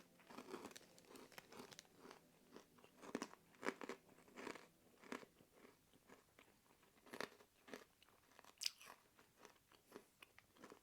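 Crab roe coated broad beans, a packaged Asian snack, are chewed up close. There are repeated crunchy bites and crackly mastication in uneven bursts, quiet but distinct, with no talking.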